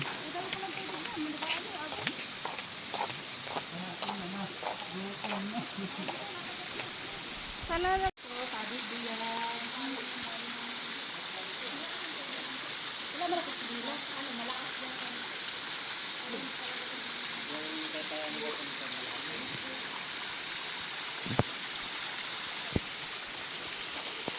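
Pandurucan Falls, a waterfall beside a swimming pool, gives a steady loud rushing roar that surges in at about eight seconds. Before that, people talk over a quieter background.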